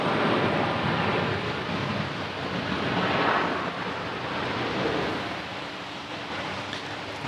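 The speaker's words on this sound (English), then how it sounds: "here comes our American 737 coming in from Miami" An American Airlines Boeing 737 on approach into Raleigh-Durham International, arriving from Miami, makes a steady broad jet roar that swells and fades, mixed with wind noise on the microphone and no talk.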